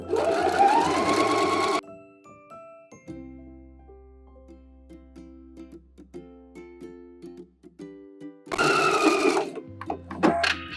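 Two short bursts of a sewing machine stitching bodice side seams with a back stitch, one at the start and one near the end, separated by a stretch of soft tonal music.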